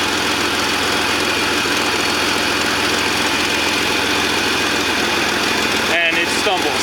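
A Jeep XJ Cherokee 4.0 engine idles close by with one fuel injector unplugged, a loud, steady low rumble with a brief uneven catch near the end.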